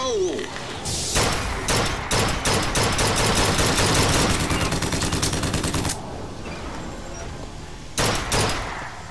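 Gunfire in the video game Bioshock Infinite, a long loud burst of rapid shots with thumping impacts that stops abruptly, then a final pair of sharp shots after a short pause.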